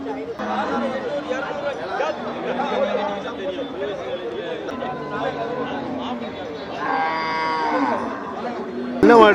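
Gir cross cattle low repeatedly at the busy Melapalayam cattle market, with drawn-out moos rising over constant nearby chatter from people talking.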